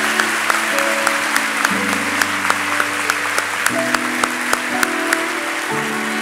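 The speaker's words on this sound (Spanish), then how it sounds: "De nuevo, otro aplauso." Steady audience applause fills a hall at a memorial tribute ceremony for Banco Popular Dominicano's founder, Alejandro E. Grullón, dense and sustained over soft held organ-like chords that shift every couple of seconds.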